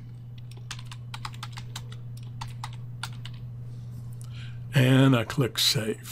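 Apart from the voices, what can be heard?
typing a workspace name on a computer keyboard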